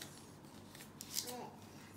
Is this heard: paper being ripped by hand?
yes